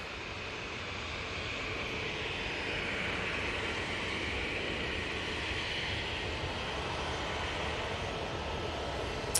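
A TUI airliner rolls through at Manchester Airport, a steady broad jet roar holding at an even level for the whole stretch, close and continuous with no talk over it.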